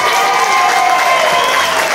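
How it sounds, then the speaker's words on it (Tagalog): A loud crowd applauds and cheers right after the Pangasinan provincial board of canvassers proclaims the new governor, with dense clapping and shouting filling the room. "Ganito kalakas ang palakpakan at hiyawan"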